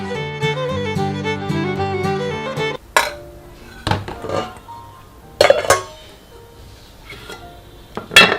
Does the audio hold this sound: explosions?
no